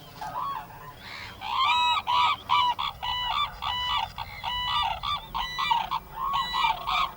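Cranes call near a lake, loud honking cries in quick repeated bursts from several birds, close and alone without talk.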